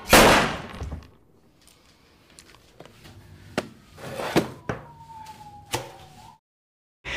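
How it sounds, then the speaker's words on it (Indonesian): Gunshots in a mafia revenge action film, with a loud burst at the start followed by scattered sharp cracks and impacts. A brief rising whine sounds near the end, mid-distance with no speech. "Dan Razor pun menembak mereka hingga mereka semua meninggoy."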